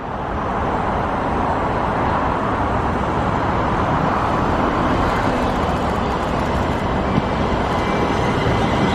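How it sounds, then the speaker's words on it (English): Heavy road traffic seen from a footbridge on the way into London, a loud, unbroken roar of passing vehicles filling the whole stretch with no talk. "It's very noisy with all the traffic."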